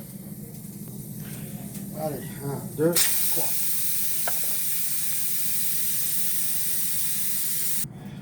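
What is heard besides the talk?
steam released from a pressure cooker valve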